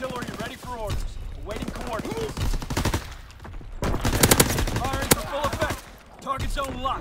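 An artillery barrage in Call of Duty: WWII, with dense, rapid gunfire and blasts hammering away near and loud while a voice talks over the din.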